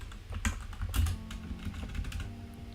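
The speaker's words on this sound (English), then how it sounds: "It took me a few days to get used to this keyboard" Rapid typing on a computer keyboard, a steady close patter of key clicks with a few heavier strikes, alone with no talk.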